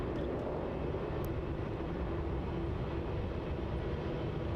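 A Qantas airliner in rainbow Pride livery, bound for Perth, taxis quickly at Melbourne Airport, giving a steady, continuous low engine roar and hum heard from a moderate distance with no talk.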